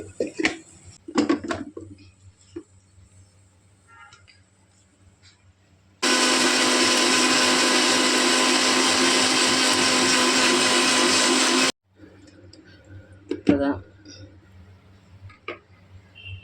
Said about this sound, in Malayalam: ഇനി നമുക്കിത് മിക്സിയിൽ അടിച്ചെടുക്കാം